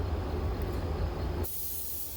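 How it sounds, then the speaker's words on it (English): Paint spray gun spraying clearcoat toward the ground, a steady broad airy hiss that holds evenly and then abruptly changes character partway through as the spray cuts off and restarts. "I was spraying it towards the ground"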